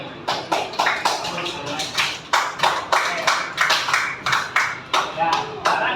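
A classroom group claps in short, sharp rhythmic bursts, a dozen or so quick rounds of near, loud hand claps, during a teaching session with voices underneath.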